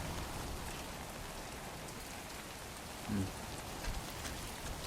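Steady, even rainfall hisses throughout in Death Stranding 2, with a soft low thump partway through.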